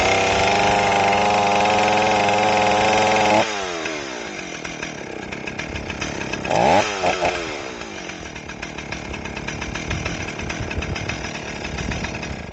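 A Stihl 038AV chainsaw under rehabilitation runs loud at high idle with no choke, then drops abruptly to a rough steady idle, with a brief revving burst midway.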